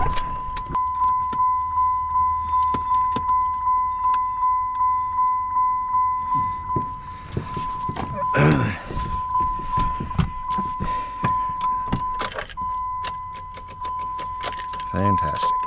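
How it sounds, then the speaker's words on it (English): An old truck's starter cranks in a steady, rhythmic churn without the engine catching, under a continuous warning chime, with keys jangling and a few brief bumps and a voice near the end. "All right, so old truck won't start"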